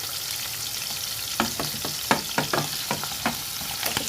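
Liver sizzling and frying in a hot pan, a steady crackling hiss with a run of sharp pops and spatters clustered through the middle, close and loud, with no voices.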